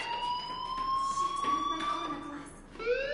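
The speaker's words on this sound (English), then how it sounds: "do you hear that fire alarm? That means you should be outside" A fire alarm rings inside the video game Life is Strange, steady electronic tones sliding slightly in pitch, loud and continuous with a brief dip near the end before resuming.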